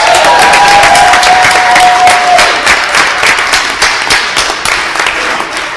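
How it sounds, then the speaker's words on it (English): Audience at a Nutley, New Jersey Board of Commissioners meeting claps loudly and steadily for several seconds, a brief thin whistle-like tone ringing over the start before the applause gradually thins. "Go ahead, time for a round of applause."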